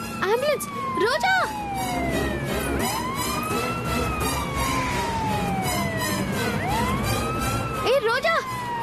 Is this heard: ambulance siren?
yes